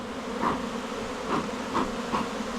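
Honey bees from a backyard hive drone in a low continuous buzz, with individual bees flying close past the listener in a few brief louder swells.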